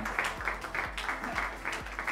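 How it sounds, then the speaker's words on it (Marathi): An audience claps at a Marathi TV serial launch event, with several bursts of applause rising and falling in waves, moderately loud, mixed with crowd noise and faint voices. "जोरदार टाळ्या झाल्या पाहिजेत या आपल्या लाडक्या जोडीसाठी."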